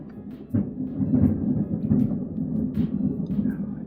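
A thunderstorm rumbles continuously, a deep rolling thunder with a sharper crack near the start, mixed with rain and heard without any talk.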